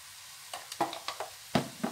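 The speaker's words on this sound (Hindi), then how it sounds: "और इसको भूनेंगे" Keema sauce for spaghetti fries in a pan, a low sizzle punctuated by a series of distinct spoon scrapes and taps, close and irregular.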